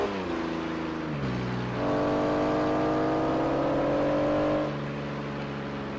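A car engine revs in the Forza Horizon racing game, its tone stepping up through the revs and holding a loud, steady pitch before dropping back, with no voices.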